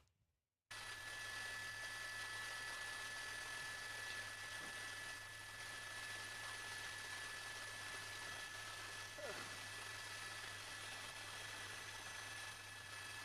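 A police helicopter hovers overhead during a high-speed chase, its steady distant rotor drone and engine hum holding at an even, muted level throughout.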